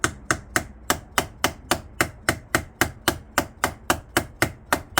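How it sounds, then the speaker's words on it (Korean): A plastic urethane mallet tapping a battery terminal down onto its post, a rapid, even series of sharp knocks, about three per second, close and clear with nothing else around. "이렇게 해서 가볍게 이제 플라스틱 우레탄 망치죠"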